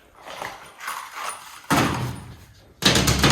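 A hand-built wooden camper topper on a 1968 Ford F250 Highboy gets its hinged door and hatch swung shut, giving two heavy thumps a second apart, close by and loud, with faint voice and handling noises before them.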